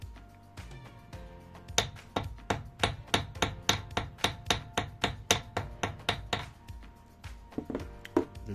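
A small hammer taps lightly on a wire bracelet piece during jewelry making, a regular series of about twenty sharp, close metallic taps with a short pause before more uneven hits.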